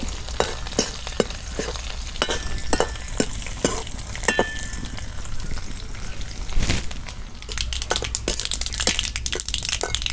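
Tempering of urad dal and curry leaves crackling in hot oil on low heat, a dense steady sizzle with many sharp pops and spits throughout, close and alone.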